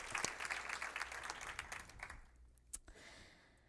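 An audience applauding, a dense patter of clapping that thins out and fades after a few seconds, ending with a few scattered claps.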